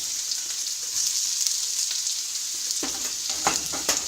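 Chopped onions hit a hot pan of frying potatoes, giving a steady close sizzle with several sharper crackles and pops near the end; no voices.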